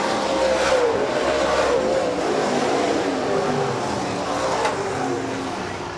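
USMTS race cars on the Rapid Speedway dirt track roar through turns three and four on the final lap of a heat race, a continuous loud, distant engine wail with passing swells.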